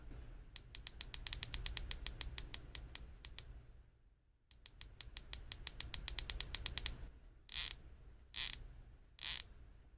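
Crisp, rapid clicking from the 120-click unidirectional bezel of a Seestern Ocean Star watch being turned, with long even runs of close ratcheting clicks, a brief pause, then several slower bursts, all heard alone.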